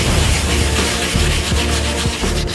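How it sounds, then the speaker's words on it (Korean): Sandpaper rubs hard and continuously against old timber salvaged from a hanok, worked wet with water to lift the grime, close and loud with a few faint knocks underneath and no speech. "일반적인 사포질로는 때가 벗겨지지 않을 경우 물로 닦아가며 사포질을 해야 한다"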